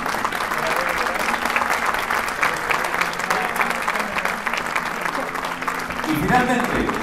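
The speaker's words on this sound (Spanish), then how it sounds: "Aplausos también." A theatre audience at the Gala Unidas por la Danza in Teatro Municipal de Chillán claps steadily and densely, a full, even wash of applause lasting throughout, with a voice briefly audible toward the end.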